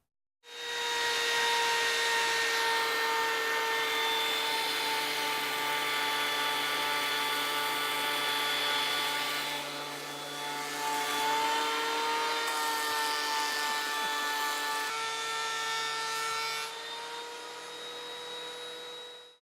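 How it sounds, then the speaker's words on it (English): A planer or thickness planer machine-planing redwood lumber that had been rough-cut on a table saw, a loud, steady high-pitched mechanical whine and roar that runs nearly twenty seconds with a brief dip midway, no talking. "What we're going to do now is plane that off."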